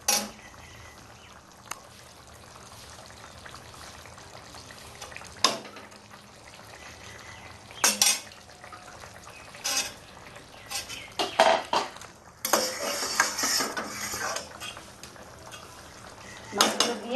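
Hilsa fish pieces go into a pan of potato curry amid quiet cooking sounds: scattered clinks of a spoon against the pan, brief scraping and stirring bursts, and a soft simmer in between.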